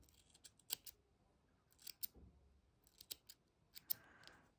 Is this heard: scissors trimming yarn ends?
yes